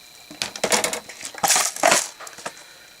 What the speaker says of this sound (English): I use this a lot to punch my holes.